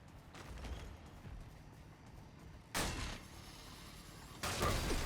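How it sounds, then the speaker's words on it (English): Gunshots ring out on a downtown Detroit street while people stand in line, two sharp, loud cracks a couple of seconds apart over a low background murmur. "Hearing gunshots while standing in line."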